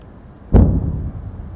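Heavy artillery fire along the Line of Control at Poonch: a single loud, close boom erupts sharply and rolls off into a long, low rumbling decay.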